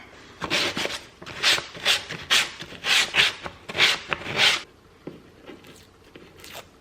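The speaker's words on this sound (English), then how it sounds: "So I have like a little sandpaper pad, and I might like run that over it to help me get it off." A sandpaper pad rubbed back and forth over an old thrifted wooden nightstand gives about nine rhythmic, hissy scrubbing strokes up close, then the scraping fades to a few faint touches.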